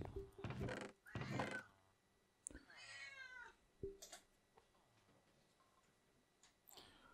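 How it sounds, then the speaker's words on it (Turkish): A cat meows in the background of a room, several drawn-out wavering cries spread across the stretch, mixed with scattered clicks and a person talking. "Arka planda bir kedi miyavlaması duyup duracaksınız."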